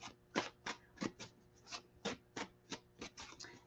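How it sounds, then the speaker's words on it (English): Deck of playing cards being shuffled by hand: faint, close riffling and snapping bursts repeating roughly every third of a second, with no talking. "while I'm shuffling the cards"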